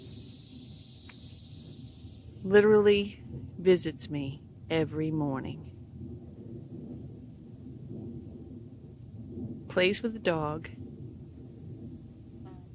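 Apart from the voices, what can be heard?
cicada buzzing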